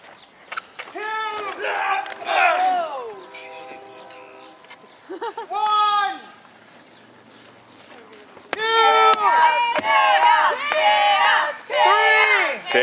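Wrestling crowd at an HWA match, Poncho versus Khaos, shouting and cheering in loud bursts with chanted, wavering voices that swell and drop, loudest near the end.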